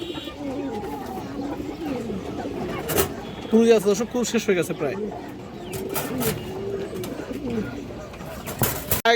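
Pigeons at a pigeon farm coo in a lively, restless way nearby, with occasional wing flaps and sharp bursts, while someone talks over them throughout.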